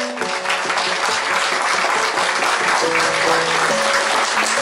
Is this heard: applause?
yes